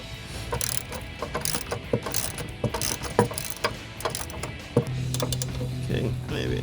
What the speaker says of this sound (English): we get our socket wrench